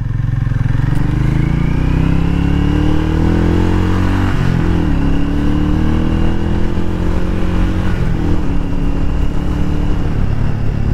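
A Hero Mavrick 440 air- and oil-cooled motorcycle on a road test ride, its engine loud and close, rising and falling in pitch as it revs and accelerates through the gears.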